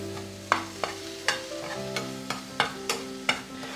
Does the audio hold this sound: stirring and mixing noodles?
yes